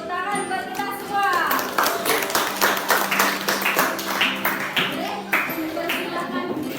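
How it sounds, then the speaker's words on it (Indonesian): A primary school class in Indonesia breaks into a burst of group clapping, many quick hand claps overlapping at close range for several seconds, with voices mixed in. "Tepuk tangan buat kita semua."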